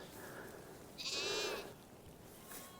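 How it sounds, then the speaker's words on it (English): Sheep and lambs in farm fields near a village bleat close by, one clear, strong bleat rising over quiet outdoor background, then a fainter call near the end. "Hello, sheep."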